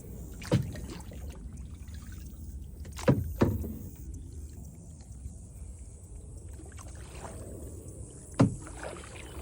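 Kayak paddle strokes dip into creek water at Shingle Creek in Hunters Creek, with a few distinct splashes spaced irregularly over a quiet, faintly trickling background, close by and with no talking.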